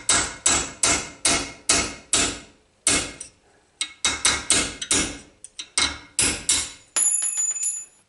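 Hammer knocking out a too-tight fitted metal part in a workshop, a long series of sharp, close blows landing in irregular bursts, some rapid and some spaced, ending with a ringing tone.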